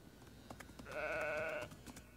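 A single sheep bleats once, a short, wavering cry in a TV show scene, set against a quiet background with faint taps.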